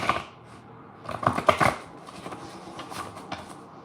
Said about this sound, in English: I'm just shuffling the message deck because it's been in the living room